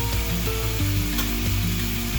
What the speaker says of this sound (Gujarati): હવે આ બધાને આપણે અધકચરું સાંતળી દઈશું.